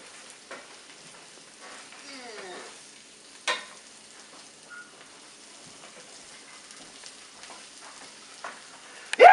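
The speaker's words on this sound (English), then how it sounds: "Keep right on cooking. Keep right on stirring." A pot of soup on the stove being stirred, mostly a faint, quiet sizzle with sparse spoon clinks and a couple of sharper knocks, close by and alone without talk.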